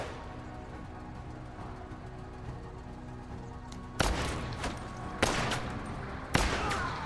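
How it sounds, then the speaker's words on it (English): Three sharp, loud rifle cracks from a sniper in the game MENACE, spaced about a second apart, each followed by a short ringing tail over a low, steady background rumble. "That's definitely a sniper."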